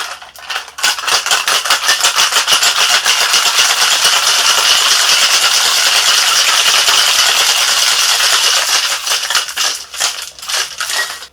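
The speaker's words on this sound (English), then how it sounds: "And now that we have all the ingredients in our shaker, let's get some ice. And let's give this bad boy a shake." A cocktail shaker packed with ice is shaken hard and steadily for about ten seconds, a loud, dense rattle of ice cubes against metal with no talking, ending in a few looser final shakes.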